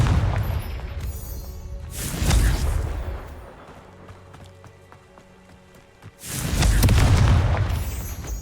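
Confringo spell explosions in the video game Hogwarts Legacy: two heavy booming blasts a few seconds apart, each with a rumbling tail, over quieter footsteps and ambient game sound.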